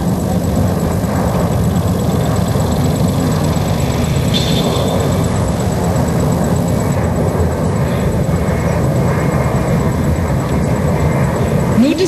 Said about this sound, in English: You can now see the IL-76 flying towards us.